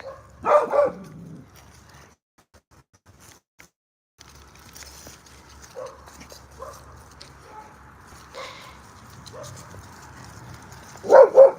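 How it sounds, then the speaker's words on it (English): Dogs let out a short burst of barking at the start and again at the end, with quiet shuffling and faint movement filling the long gap between. "You don't need to bark."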